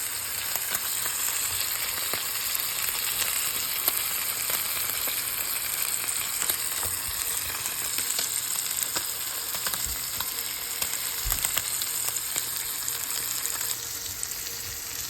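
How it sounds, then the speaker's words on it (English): A dry-aged ribeye steak sears in a hot pan, a dense, steady sizzle with tiny crackling pops throughout, close and unbroken, with no voices. "You want to let it sear for about 2 minutes on one side and then about 2 minutes on the other."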